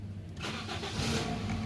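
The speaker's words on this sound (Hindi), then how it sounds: "ये गाड़ी को सल्फ़ लगा रहे हैं।" A car engine being started with the starter during a knock-sensor check: a steady low mechanical whir and rumble that swells as the engine catches, continuous and close, with no talking.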